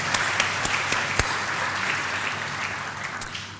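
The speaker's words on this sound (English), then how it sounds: "one more round of applause for Troy Swanson and everything he does for this school." An audience applauds steadily at a community college school event, with dense, even clapping sustained throughout and a few sharper individual claps standing out.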